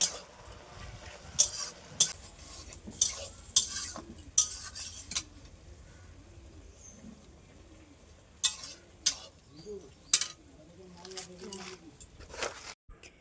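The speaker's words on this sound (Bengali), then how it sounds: "এবার ভালোভাবে নাড়াচাড়া করে মিশিয়ে নেব।" Ridge gourd is stirred in a pan with salt and turmeric, a spatula scraping and clinking against the metal in irregular bursts over a faint sizzle, with quiet stretches between strokes.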